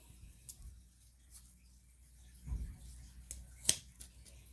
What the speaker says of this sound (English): Got ourselves a nice sponge. We'll cut a piece of that off.